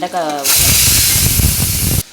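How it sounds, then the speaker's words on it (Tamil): A brief voice, then a loud, steady sizzling hiss of okra frying in a hot pan that cuts off abruptly. "வெண்டைக்காய் வதக்கலுக்கு வெண்டைக்காய் வதங்கிட்டு இருக்குது"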